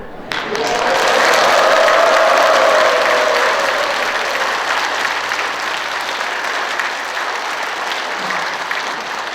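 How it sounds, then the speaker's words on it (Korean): Church congregation applauding at a Catholic Mass in Incheon, loud sustained clapping that swells quickly and holds, with some cheering voices within the dense crowd sound, slowly easing off. "받아본 박수 중에서 제일 큰 박수를 받았다 하게끔 좀 인색하지 않게 같이 좀 소리도 좀 질러가고"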